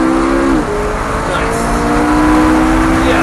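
A Lamborghini or McLaren sports car drives on a race track, its engine note sweeping up and shifting with a loud close revving whine, while a brief spoken remark sounds over it.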